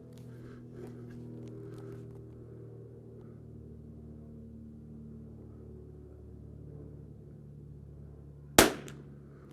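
A Christensen Arms Ranger 22 rifle fires one subsonic .22 round, a single short sharp crack near the end that follows a long quiet stretch of low background hum.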